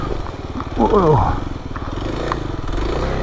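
A two-wheel-drive motorcycle engine runs with a steady low throbbing hum close by, swelling briefly, as a person talks over it.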